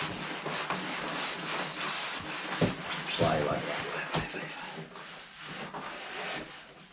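Cardboard and plastic packaging rustle and scrape as a monitor box is opened and unpacked on a small desk, with a couple of sharp thumps and clicks, close and moderately loud.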